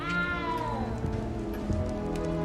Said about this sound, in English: It's actually the uncle's cat.